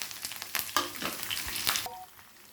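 Dried red chilies, curry leaves, mustard seeds and cumin fry in hot oil for a mango pulihora tempering, giving a dense close sizzle with crackling pops and stirring scrapes that fade toward the end.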